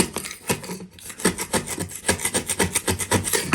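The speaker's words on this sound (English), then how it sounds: "all I'm doing is using a 5-in-1 tool. I'm not pulling out a grinder." A 5-in-1 tool scrapes lumps off cured floor leveler in quick, repeated rasping strokes, loud and close, with no voices.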